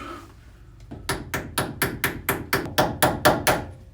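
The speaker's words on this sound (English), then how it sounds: "Got a little hammer here. I'm gonna see if I can jimmy it out." A small hand hammer taps repeatedly on a part, trying to jimmy it loose: about a dozen sharp, evenly spaced metallic strikes close to the microphone after a brief quiet start, with no talk.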